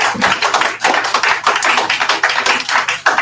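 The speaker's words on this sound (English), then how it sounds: "let's clap it up for our young people once again" An audience claps for young people at the soft launch of a trauma recovery center, a dense, steady wash of many hands applauding close by with no talking over it.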